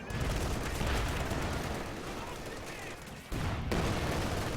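Game gunfire in Company of Heroes 2, with machine-gun bursts and other battlefield shots rattling in a dense, continuous barrage that briefly drops out before resuming.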